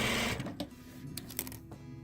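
A sewing machine stitches a quilt piece on, heard as a short, close mechanical whir with small clicks, fairly quiet and steady, with no voices.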